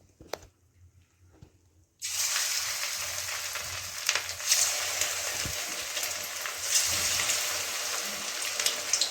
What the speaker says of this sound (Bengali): চলো এবারে এক এক করে শুকিয়ে ফ্রাই হবে আগে।